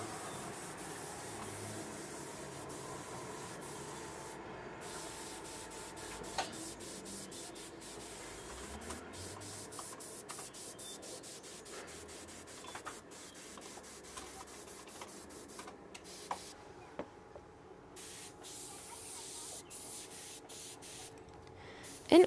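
A soft, steady hiss from a Harder & Steenbeck Evolution CRplus twin-action airbrush spraying black paint for fur detail, in short bursts and longer passes, quiet and close, with occasional light clicks and brief pauses.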